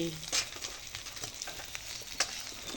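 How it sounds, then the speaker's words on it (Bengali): Bata fish frying in oil, a close crackling sizzle with scattered sharp pops and light scraping as pieces are stirred and lifted out, steady and moderately loud. "মাছগুলো ভাজা হয়ে গেছে এখন তুলে নিচ্ছি"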